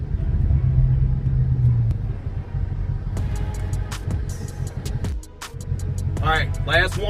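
Dodge Charger Redeye engine holding steady at 1,500 RPM for launch control gives a deep continuous rumble inside the cabin, with people talking over it throughout.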